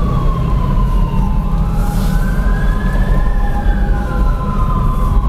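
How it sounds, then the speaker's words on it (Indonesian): A wailing ambulance siren rises and falls steadily over a loud, continuous rumble of road traffic, heard from nearby without any talking. "Bunyi ambulan."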